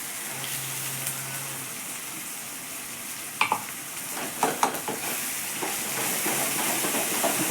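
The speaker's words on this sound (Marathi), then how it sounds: "फक्त थोडासा मिरची आणि लसूणच आपल्याला भाजावं लागेल याच्यातला" Chili and garlic roasting in a pan while a Marathi-style wet tur (pigeon pea) curry is cooked, giving a steady low sizzle and hiss with a few scraping stir clicks in the middle, close and alone without talk.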